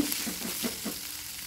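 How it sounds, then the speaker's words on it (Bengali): Chopped onion frying in oil with ginger-garlic paste gives a soft, steady sizzle with faint stirring scrapes, brief and fairly quiet, with no talking. "পেঁয়াজ কুচি দিয়ে একটু ভেজে নিচ্ছি।"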